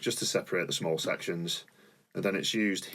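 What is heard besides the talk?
No everyday noises stand out.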